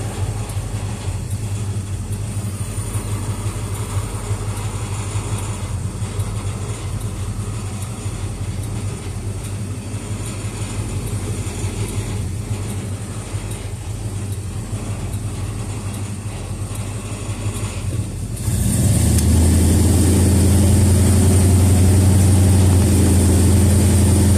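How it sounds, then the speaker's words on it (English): A large 351 Windsor V8 engine in a Ford E-150 van idles steadily with a deep, rumbling drone, rattling the van, then revs up and grows louder and rougher near the end. "New engine, it rattles everything."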